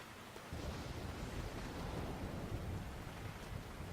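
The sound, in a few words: thunderstorm in video game GTA IV LCPD:FR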